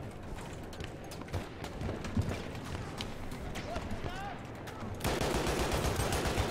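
Rapid shotgun blasts crack out in Battlefield 1 amid a busy firefight, with a dense run of close, punchy shots, many distant pops and shuffling footsteps. A louder burst of gunfire closes it, and excited voices talk over much of the action.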